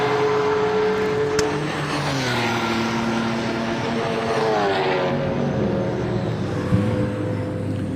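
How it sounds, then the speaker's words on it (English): A Volkswagen Golf race car drives past on the Snetterton circuit, its engine a loud, steady drone whose pitch sweeps downward as it passes, with constant track ambience beneath. "There goes the Golf."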